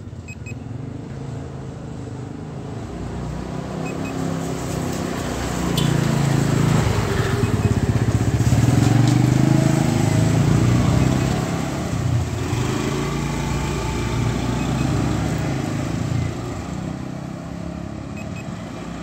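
An SJRC F11 4K Pro drone races in sport mode, its motors a continuous buzzing whine that swells louder in the middle and then eases, steady and unbroken with no talk.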